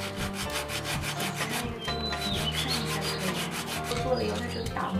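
A wooden fish tail pendant is hand-sanded smooth, with steady rhythmic rubbing strokes repeating close up at a soft level, and faint bird chirps in the background.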